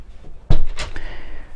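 A thick, heavy cabin door on a Windy 34 Alize motorboat swings shut with a single solid thunk close by, followed by a short rattling settle, with no one speaking.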